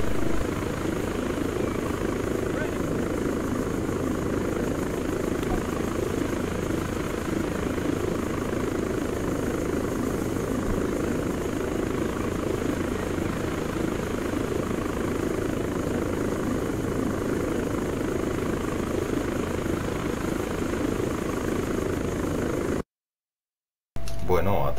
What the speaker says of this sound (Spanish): Bueno, ataque de helicóptero.